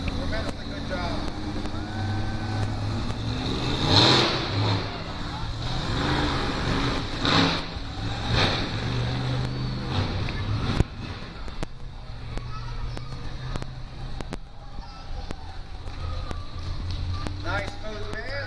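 A monster truck engine revs and roars during a smooth pass over cars at the Carlisle Truck Nationals in Pennsylvania, with loud rising engine tones under an announcer's ongoing talk and a sharp bang partway through.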